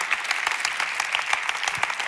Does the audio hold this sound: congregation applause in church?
yes